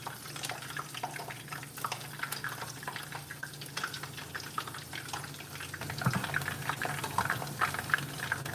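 Beef sizzles and bubbles steadily in a pan of hot oil, a close, continuous crackling fry with scattered pops, growing slightly busier toward the end.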